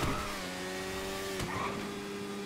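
Kawasaki Ninja 2022 motorcycle with twin exhaust revs steadily in GTA 5 Online, a sustained engine drone that rises slightly in pitch, heard alone without talk.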